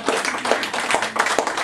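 Audience applause at a talk in a wine shop, a short burst of clapping from a small crowd with distinct, fairly close hand claps in an irregular patter.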